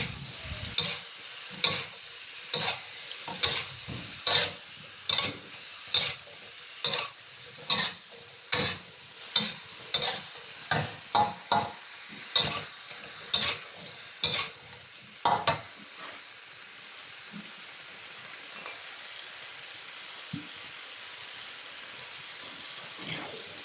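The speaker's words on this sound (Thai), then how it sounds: "แล้วก็ใส่ดอกหอมที่เราเตรียมไว้ลงไป แล้วก็ผัดเรื่อยเลย" Shallots stir-fried in a pan for a homemade jap chai, giving sharp scraping stirs in a steady rhythm over a soft continuous sizzle, fading to just the sizzle near the end.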